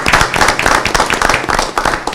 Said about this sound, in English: Can we get a round of applause for our telecommunicators?